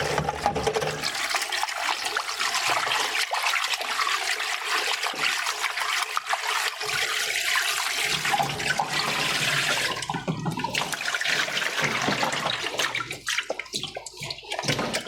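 Strong running water pours from a tap while milkfish and shrimp are rinsed for sinigang, a loud continuous splashing rush with shifting tone as the hands and food move under the stream, and no talk.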